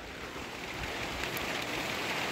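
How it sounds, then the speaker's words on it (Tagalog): Steady rain falls outdoors, a soft continuous hiss that swells slightly louder over the short span, with no voices heard. "So ayan ang ulan."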